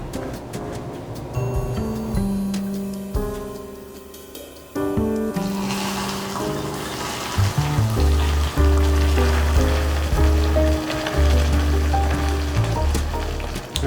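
Hot caramel syrup hisses and sizzles violently as boiling water is poured in, a loud continuous crackling spatter heard beneath music.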